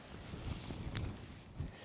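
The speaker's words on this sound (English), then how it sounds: "It's a bit windy" Low, blustery storm wind buffeting the microphone, a steady rumbling gust with a few brief thumps, no voices.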